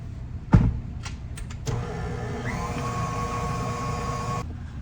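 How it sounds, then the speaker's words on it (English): A new KitchenAid stand mixer with its paddle attachment beats softened cream cheese. A sharp clunk and a few clicks come first, then a steady whirring motor hum runs for about three seconds and cuts off. "Beat the softened cream cheese for 5 minutes until it's fluffy."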